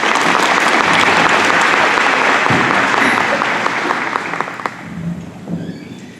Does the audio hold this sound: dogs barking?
no